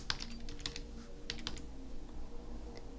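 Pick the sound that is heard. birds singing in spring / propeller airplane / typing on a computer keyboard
typing on a computer keyboard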